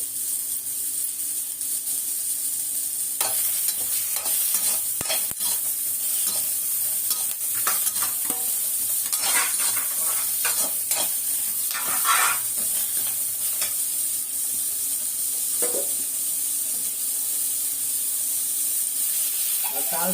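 Onion, tomato, green chili and curry leaves sauté in hot oil with a continuous sizzle, punctuated by scattered scraping stir strokes from a spoon against the pan.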